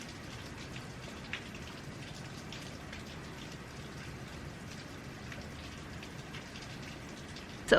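Steady rain patters down outside by a partial-shade garden, an even close hiss of drops with no talk.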